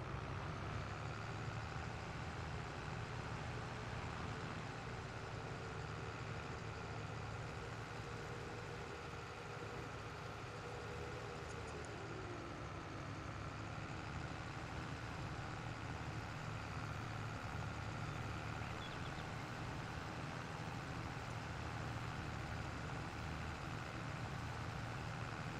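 A tractor engine in a farming video game strains steadily uphill with a low, continuous drone and rumble, with a brief pitch change near the middle.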